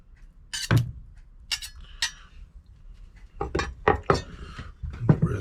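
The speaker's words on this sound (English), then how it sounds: "I'm just going to put a masher across it a little bit, just so I don't make so much mess" A potato masher works through cooked butternut squash in a pot aboard a narrowboat, giving a series of sharp metallic clinks and knocks against the pot, clustered irregularly and fairly close, with no talking.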